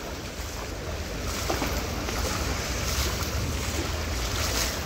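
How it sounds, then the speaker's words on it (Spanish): Steady rushing and splashing of water in a flooded street in San Cristóbal, Ecatepec, a continuous, loud wash of surging floodwater with no clear breaks. "Tú me salpicas agua en las patas."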